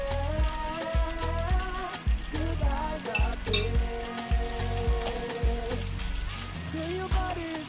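White onion sizzling as it hits the hot pan for fruit fried rice, a steady crackling fry running throughout with occasional stirring scrapes, while a voice talks over it.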